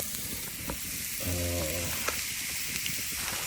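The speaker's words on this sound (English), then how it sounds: "Oh, I can hear the sizzle." Food sizzles and crackles steadily in a hot pan, a constant hissing fry with a brief low hum partway through.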